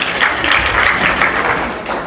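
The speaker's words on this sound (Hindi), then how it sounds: "चलो दीदी के लिए एक बार ताली बजाओ जोर से।" Steady applause from an audience at a talk, as a crowd claps for a volunteer coming forward, a dense even patter of hands lasting a couple of seconds.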